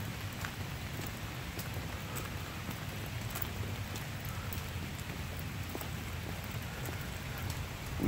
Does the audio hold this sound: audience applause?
no